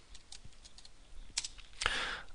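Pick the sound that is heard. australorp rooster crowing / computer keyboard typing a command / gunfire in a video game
computer keyboard typing a command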